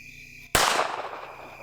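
A Ruger LCP Max pistol fires a single sharp, loud shot outdoors at a 25-yard target, followed by a short decaying echo, with no talk around it.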